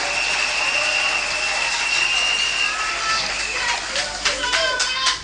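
Congregation applauding during a church service, a steady wash of many hands clapping that thickens into louder, sharper bursts toward the end, with faint voices mixed in.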